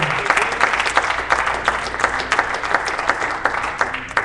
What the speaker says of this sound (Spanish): Hermano, un aplauso a la gloria del Señor